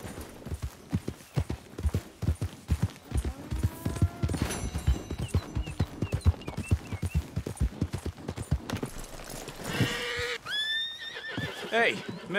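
Horse hooves clip-clop in a rhythmic stream in Red Dead Redemption 2, mixed with a whinny, game effects and someone talking over them, with a bright tonal cue near the end.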